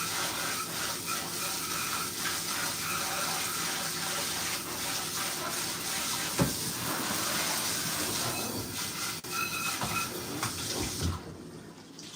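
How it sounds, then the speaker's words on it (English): Pressurized water rinses a pan in a sink, a steady loud broadband spray running for about eleven seconds with a brief clatter midway, then cutting off at the end. "All I did was rinse it out with some pressurized water."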